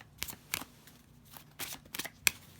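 Tarot cards being handled and drawn from a deck, with several short, crisp flicks and soft slides spread unevenly over a couple of seconds, quiet and close, with no voice.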